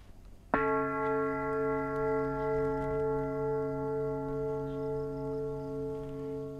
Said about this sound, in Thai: ระฆังใบนี้คุณแม่รักมากเลย ระฆังแห่งสติเตือนพวกเราทุกคน